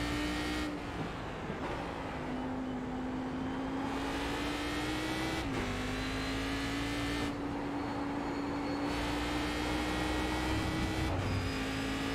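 A race car engine in the iRacing sim game holds a steady high-revving drone, dipping briefly at each gear shift, alongside a constant wash of road and tire noise across a long continuous run.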